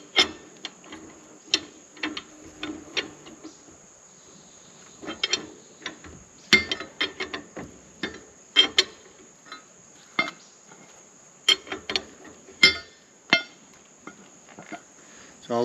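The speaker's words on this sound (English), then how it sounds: "So I'll loosen it, spin it a little bit," A camper wheel bearing nut is loosened, spun and tightened, giving sharp metallic clicks and knocks in irregular bursts with quiet gaps between, close and fairly faint.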